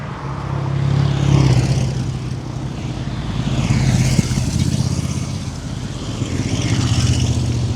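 A motorcycle gang riding past on a street walk in Netphen-Deuz near Siegen: a thick, sustained engine roar that swells and recedes over several seconds, loud and close.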